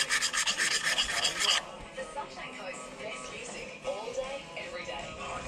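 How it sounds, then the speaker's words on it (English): Sandpaper and a file work over freshly painted outboard motor casing, giving a steady, close scraping and rasping that continues throughout in short rubbing strokes. "Now I've just got to sand all that and file it. Get it as smooth as I can."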